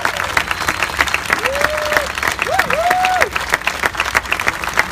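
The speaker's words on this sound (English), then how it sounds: "stand as you give them a round of applause" An audience at a California senator's swearing-in ceremony gives sustained, dense applause to his standing family, with a few cheers rising above the clapping.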